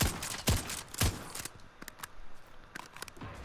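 A flamethrower shotgun fires in Call of Duty Modern Warfare, two loud blasts about half a second apart, then a string of lighter, sharper cracks and clicks that fade to a quieter crackle.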